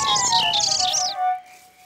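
Cartoon birds in the animated series Fireman Sam chirp in quick, bright bursts, several tweets in a row up close before fading out, with a held tonal note underneath.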